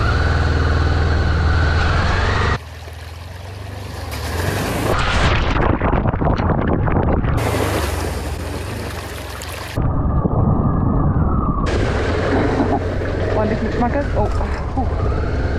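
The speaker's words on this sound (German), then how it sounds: "So einen Fluss bin ich noch nie durchgefahren." A motorcycle rides through a river on a tour in Spain. The engine is loud and close, with a rush of churning water and splashing, and a voice speaks over it.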